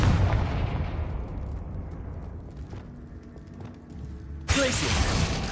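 Confringo spell blasts in the Hogwarts Legacy video game boom and rumble loudly, one explosion decaying over several seconds before another sharp burst erupts near the end.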